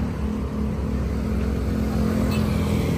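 Steady drone of cars and other vehicles passing on a busy street near a pedestrian crossing, a continuous close engine rumble with no pauses throughout.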